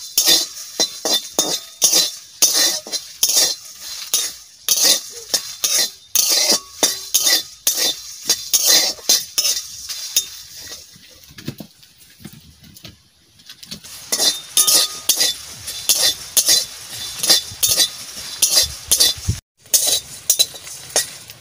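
Cumin seeds and dried red chillies are stirred in a pan, heard as rapid, close metallic scraping and clinking of a utensil against the pan in repeated bursts, with only a faint frying hiss and brief pauses.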